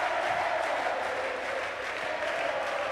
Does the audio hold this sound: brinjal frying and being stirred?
no